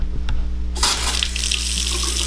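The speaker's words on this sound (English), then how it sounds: "Faucets work." A household faucet is turned on and water gushes into a sink with a sudden onset, then runs as a steady, close splashing stream over a low hum.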